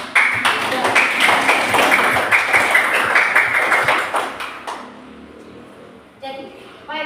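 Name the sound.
children applauding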